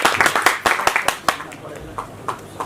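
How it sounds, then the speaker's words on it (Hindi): Scattered audience clapping breaks out at a music video debut event: a handful of sharp, uneven claps in quick bursts, fading and thinning toward the end, with a little background murmur. "एक बार जोरदार तालियां हो जाए पूरे माहौल के लिए।"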